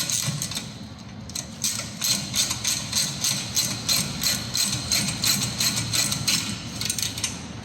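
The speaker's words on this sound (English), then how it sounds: "If it feels tight on the ratchet, stop, take it out and go again." A ratchet turns bolts while brake pads are changed on a Seat Arona, giving a steady run of quick, evenly spaced metallic clicks heard up close, with no voices.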